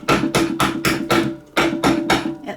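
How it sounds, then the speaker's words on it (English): A hammer tapping a lid back onto a glitter container, about eight firm, evenly spaced blows, close and loud, with a brief pause partway through. "at least hammer it back on so it sticks for the moment"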